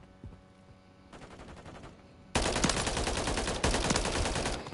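Call of Duty MW3 gunfire erupts in dense automatic bursts, quieter scattered shots giving way to a sustained loud, close barrage in the second half.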